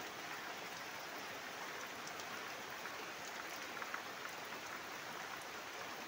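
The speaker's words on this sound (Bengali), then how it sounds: "দেখুন ভোরবেলায় কেমন বৃষ্টি শুরু হয়ে গেছে।" Steady early-morning rain falls continuously, a dense even hiss of drops on surfaces with no voices, holding at a moderate, unchanging level throughout.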